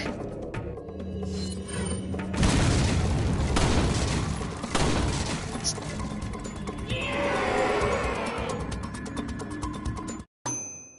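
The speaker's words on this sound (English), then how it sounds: "We have a hand grenade too, I keep forgetting that" A hand grenade goes off in Resident Evil 4 (2005): a loud, broad boom that rolls on with crackling debris and game noise for several seconds before cutting out abruptly near the end.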